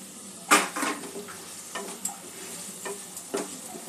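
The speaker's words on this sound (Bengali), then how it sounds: "সব কিছু ভালো করে নাড়াচাড়া করে নিয়ে আলুটা একটু মশলার সাথে কষে নেব।" Potatoes are stirred and fried with spices in a pan with little oil: a soft sizzle runs under repeated scraping strokes and light metal clinks, close and fairly quiet.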